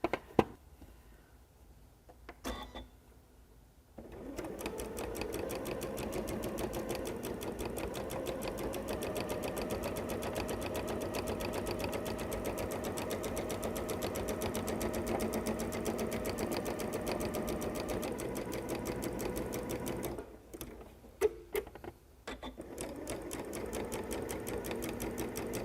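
A sewing machine stitches thread steadily for about sixteen seconds, its rapid even whir holding a constant pace, with brief quiet pauses and short start-up bursts before and after the main run.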